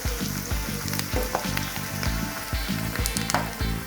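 Onions and curry leaves frying in hot oil in a pan, a close continuous sizzle broken by rhythmic, regular stirring knocks of a spoon against the pan.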